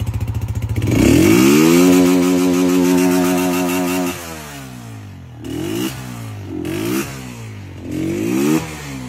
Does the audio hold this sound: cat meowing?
no